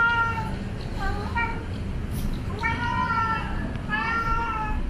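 A pet cat in a Singapore government-built flat gives several clear, close meows in short bursts, some drawn out and rising, over a low background murmur.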